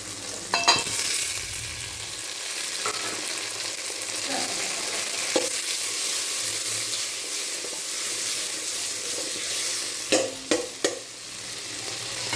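Tomatoes fry with sautéed onions for a Thanjavur fish curry, a continuous close sizzle with spatula stirs and a cluster of sharp scraping clacks against the pan near the end.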